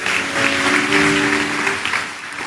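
Congregation applauding God during an Indonesian church service, loud dense clapping from many people, with sustained music tones underneath through most of it.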